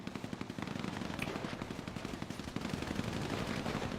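Rapid automatic gunfire from a GTA roleplay video game, a dense continuous stream of loud shots rattling for several seconds with no pauses and no talk over it.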